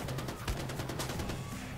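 Rapid bursts of automatic gunfire crackle through a Far Cry 4 firefight, a fast irregular string of shots at moderate loudness over a low rumbling game backdrop.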